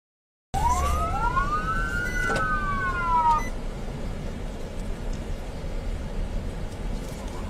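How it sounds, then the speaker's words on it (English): A police siren wails up and down for a few seconds, then cuts off, leaving steady traffic rumble and road noise. "there were emergency lights and sirens activated to signal the stop"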